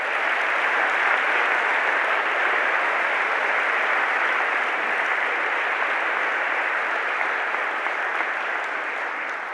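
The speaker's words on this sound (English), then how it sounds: "So another round of applause for them too." Sustained applause fills a university graduation ceremony hall, an even wash of many hands clapping that holds steady for the whole stretch and fades slightly at the end.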